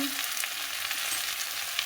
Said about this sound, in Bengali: টিফিনে আলু ভাজা করছি